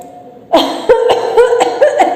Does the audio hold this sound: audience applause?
no